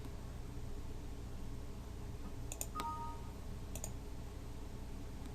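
A computer mouse clicks on the X's in a Windows control panel: a few sharp, faint clicks close together, with one more a second later, set against a steady background hiss. No one speaks.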